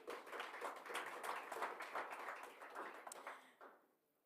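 An audience applauds after a singer's performance at a cup event, a steady spread of many hands clapping at a distance, fairly faint, tapering off at the end.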